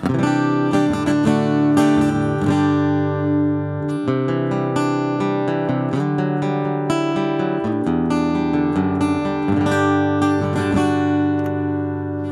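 An electric guitar plays through a Laney LX15 combo amplifier, with clean strummed chords and single notes ringing in a steady rhythm for about twelve seconds, close and fairly loud with no talking.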